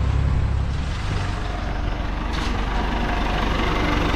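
A large farm tractor, model 6610 with an air-conditioned cab and an adjustable front dozer blade, idles with a steady, loud low-pitched diesel rumble that holds continuously throughout.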